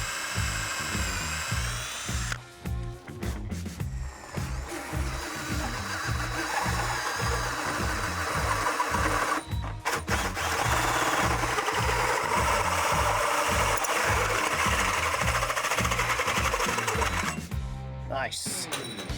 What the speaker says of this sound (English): I'm getting ready to use the step bit for my switch panel.